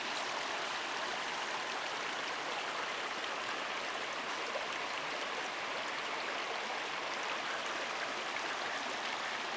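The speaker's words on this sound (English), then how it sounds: "The path walks down here to the little creek running over the rock." A small creek near a campsite in Colorado runs over rock, giving a steady, soft, even rush of babbling water at a moderate distance, with no voices.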